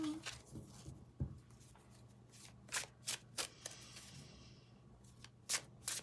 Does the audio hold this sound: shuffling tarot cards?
yes